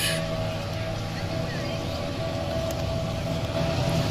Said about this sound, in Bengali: ওই যে একটা স্পিড বোট আসতেছে